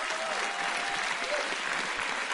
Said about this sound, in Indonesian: Tepuk tangan dong buat Pak Parto.